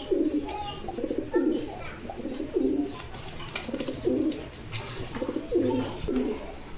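A pair of Damascene pigeons coos in repeated low, throaty bursts, about eight phrases in a loose rhythm over a steady background murmur, close to the listener.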